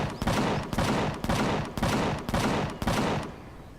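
Automated turrets in Empyrion Galactic Survival firing at drones, five evenly spaced heavy bursts of rapid gunfire, each a loud rattling volley that trails off before the next, with no talking.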